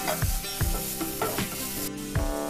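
Onions sauté with salt in a pan, a close, steady sizzle punctuated by rhythmic scraping strokes of a spatula stirring them around, with no voices.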